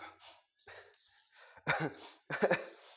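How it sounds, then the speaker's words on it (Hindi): Several harsh coughs in quick succession, close to the mic, the last two bursts the loudest, with quieter breathy sounds between them. "अरे खांसी आ गई बच्चों"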